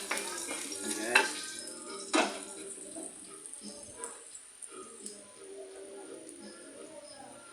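Garlic sautéing in a home pan while being stirred, with soft sizzling and a few sharp utensil scrapes and clinks near the start, settling into a faint, steady fry.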